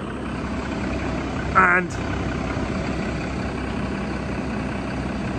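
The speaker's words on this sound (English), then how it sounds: "I've just started my fast track up" A JCB Fastrac tractor engine idles just after start-up, a steady, even rumble running the whole time, with a brief spoken word partway through.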